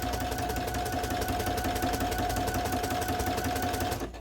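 A sewing machine runs steadily, top-stitching the pocket lining of a crisscross apron with a continuous, even whirring hum that holds for several seconds before tapering off at the end.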